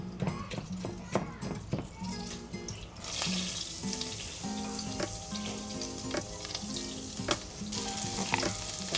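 Butter heats in a pan, building into a bright steady sizzle after a few seconds, mixed with kitchen clatter and scattered clinks.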